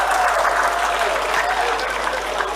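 Audience applause for actor Jaggesh at a public gathering, a dense, steady roar of many clapping hands that fills the whole stretch without pause.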